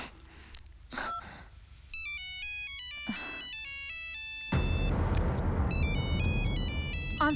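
Melodic phone ringtone chiming in repeated tone patterns, fairly loud and close, with a dramatic background music bed swelling beneath it; no one talks.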